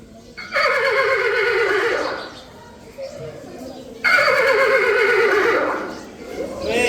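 A horse whinnies twice, each a loud, shaky neigh lasting about two seconds, with a short quiet gap between them.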